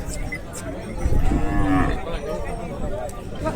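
A single loud cow moo rises out of steady crowd noise and livestock chatter at the open, busy bull and buffalo market in Dudha.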